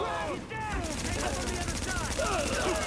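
Rapid bursts of SMG gunfire from The Division video game crackle under a player's talking, with echoing shots and game effects in a busy firefight.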